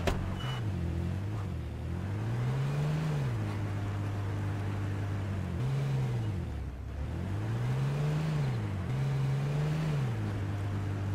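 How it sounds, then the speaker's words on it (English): A four-wheeler ATV in the video game H1Z1 gives a loud, steady engine drone that rises and falls in pitch as it revs and eases off, running continuously with no voices. "I hear a four-wheeler."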